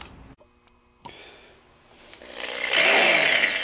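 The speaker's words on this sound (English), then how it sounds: "drill some holes in an aluminum plate" Power drill boring holes into an aluminum plate in a garage, with a few sharp clicks and a brief whir before the drill spins up into a loud, rising high-pitched grinding that continues to the end.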